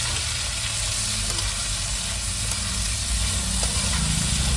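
Onion frying in hot oil for a truck-driver-style chicken curry, a continuous loud close sizzle with light stirring, unbroken and without talk.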